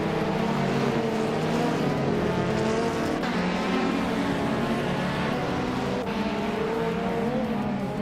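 Race cars in a racing video game roaring off the start line together, a dense steady engine drone with overlapping revs and a brief gear-shift dip, loud and continuous with no speech.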